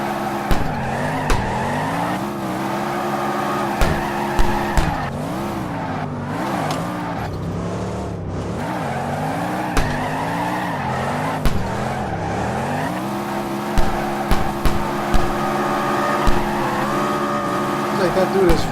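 Drifting car in CarX Drift Racing with a steady engine drone that rises and dips through gear changes, with repeated short tire squeals and skid chirps throughout while someone talks over it.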